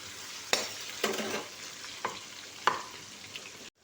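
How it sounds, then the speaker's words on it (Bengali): Chopped tomatoes frying in a pan for a home-style vegetable curry, a soft sizzle with a few distinct spatula stirs and scrapes close by, then a sudden cut to silence at the end. "এরপরে দিয়ে দিচ্ছি টমেটো কুচি, দিয়ে এবার এটাকে হতে দেবো।"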